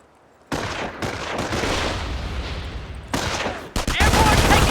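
Dense battlefield gunfire from Company of Heroes rattles close and loud in continuous bursts of rifle and machine-gun fire, cut by brief pauses and sharp cracks, with soldiers shouting in between.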